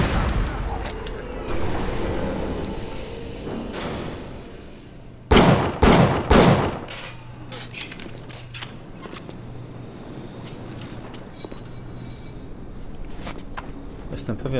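Several loud, sharp shotgun blasts in a quick cluster midway, from the video game BioShock, with booming game sound effects and background noise around them.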